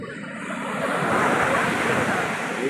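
Ocean waves wash onto a beach in a steady, rising and falling surf roar with wind buffeting the microphone, loud and close, and no talk over it.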